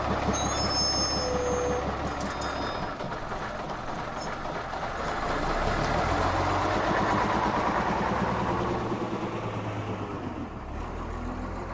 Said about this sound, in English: the Rotherham Transport Daimler stops to drop off his passengers